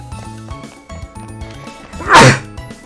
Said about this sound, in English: that's like the 4th time I sneezed today on the stream